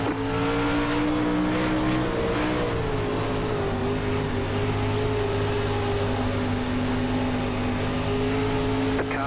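Pack of pro late model race cars in iRacing at Knoxville Raceway, a dirt track, roaring off the green flag with a loud, sustained, layered engine drone whose pitch climbs as they accelerate, then holds steady.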